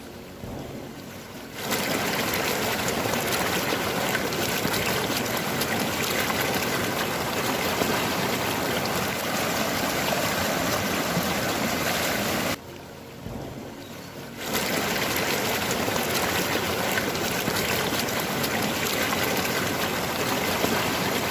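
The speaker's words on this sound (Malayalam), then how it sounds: "നമ്മളങ്ങനെ പതുക്കെ വെള്ളം ഒന്ന് ഒഴിച്ചു കൊടുക്കും" Continuous, steady rush of water pouring and splashing into a newly built koi pond, close and fairly loud, broken by two brief quieter gaps with no voices.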